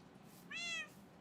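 A cat in Minecraft gives a single short, clear meow, fairly soft and alone against faint background hum.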